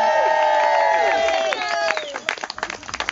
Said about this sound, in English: Can you give Gus a big round of applause for helping out?